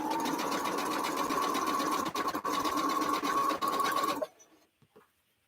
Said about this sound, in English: Chain sew.